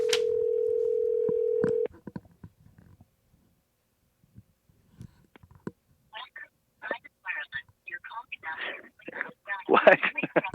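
A steady telephone dial tone is followed by a few brief keypad dialing beeps, then a voice talks over a quiet phone line.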